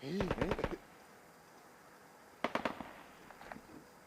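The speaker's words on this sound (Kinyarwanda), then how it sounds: "Amasasu mwumvishe?" Two bursts of rapid sharp cracks, like gunfire, ring out about two seconds apart, followed by a few fainter scattered pops.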